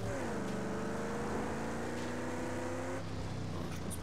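An engine drones and revs as a car drives across sandy terrain in the game Mad Max, its pitch gliding slightly then shifting abruptly near the end, loud and continuous with no talking.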